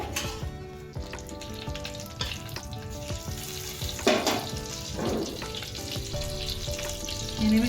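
Two butter cubes sizzle in a hot kadai at the start of a winter chicken soup, a constant frying crackle with small clinks and stirring noises, and no one speaks.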